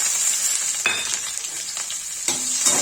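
Cumin and onion sizzle steadily in hot oil for a dal tadka, with two brief stirring clinks from a utensil against the pan.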